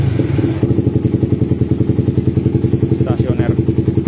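A Suzuki Satria FU motorcycle engine idles close by in a workshop, with a steady, loud, rhythmic throbbing pulse. A brief voice is heard toward the end.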